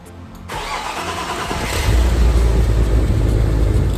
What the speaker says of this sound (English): let's turn the key and see if the car starts